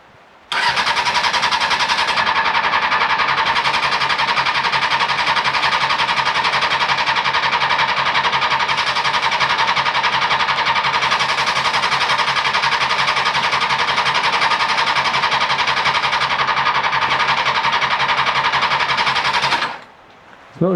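A Honda engine turns over steadily on a booster pack with the choke applied. The loud, even cranking runs for about twenty seconds without catching and then stops abruptly.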